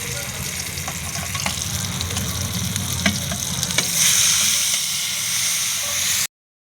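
Masala spices dropped into hot oil with browned garlic, cooking over a wood-fired chulha stove, hiss and sizzle loudly and steadily with scattered crackles, then cut off abruptly.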